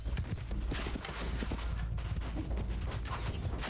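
Horse hooves clip-clop steadily and loudly in Mount & Blade II: Bannerlord, a dense battle din with a brief whinny-like cry rolling underneath the rhythmic hoofbeats.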